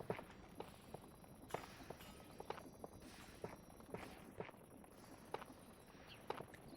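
Footsteps in the Minecraft video game, a series of quiet, evenly spaced soft thuds over faint background noise, with no talking.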